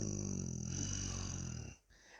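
A demon-form creature growls in a low, rough, rumbling breathy snarl for under two seconds before it cuts off, quiet and alone.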